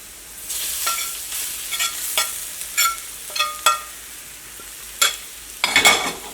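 Thick ground coconut chutney sizzling in oil in a pan while being stirred, with repeated scraping knocks of a spoon at an uneven rhythm, close by.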